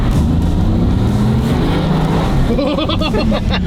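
A rebuilt Mercedes AMG engine revs hard under about three-quarter throttle, a loud, close, continuous roar that climbs in pitch toward the end.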